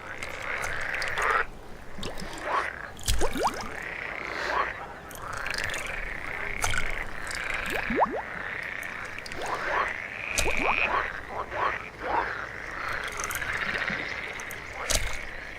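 Male alpine frogs croak repeatedly in a pond during breeding season, with overlapping rhythmic calls, occasional splashes, and a steady chorus close by.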